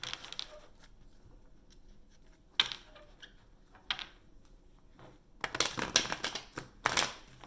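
Quiet crisp riffling bursts, like a deck of cards being shuffled, come in short clusters separated by pauses, close by, with no talking.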